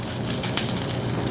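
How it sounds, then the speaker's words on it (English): A pork loin sears in a hot pan, giving a loud, continuous sizzle and crackle that fills the short moment without any talking. "I'm starting off with this by just kind of giving it a slight sear on both sides"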